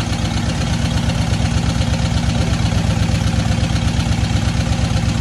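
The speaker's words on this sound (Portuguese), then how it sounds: "Escuta a sinfonia desse motor." A car engine idles steadily up close at a garage, a loud continuous low rumble with a fast regular pulse and no voices.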